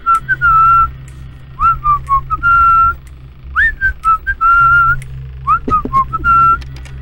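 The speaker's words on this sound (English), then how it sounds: "I gotta blow my whistle, dude." Someone whistles a quick, bright melody of short chirpy notes and slides in rhythmic phrases, loud and close over a low background hum.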